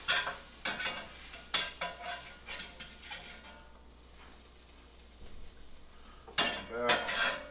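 Corned beef for a Philly cheesesteak being flipped and stirred on a hot griddle, spatula scrapes and clanks landing in bursts over a soft steady sizzle.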